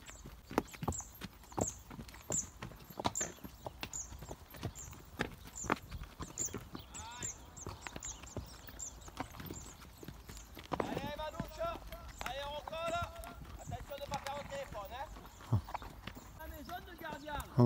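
Horse hooves clip-clop at a steady walking rhythm during a horseback ride through the marshes and salt flats of the Camargue in France, while a person talks over the hoofbeats.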